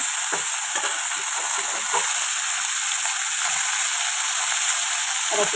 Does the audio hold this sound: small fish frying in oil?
yes